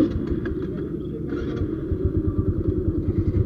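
A motorcycle rides through Dhaka traffic in the morning, its engine a close, steady low rumble with rapid rhythmic pulsing throughout and no talk.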